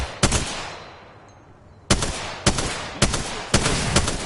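Gunfire in the shooter Apex Legends: a quick burst of shots, a pause with a faint background hum, then four sharp, loud single shots fired at roughly even half-second spacing.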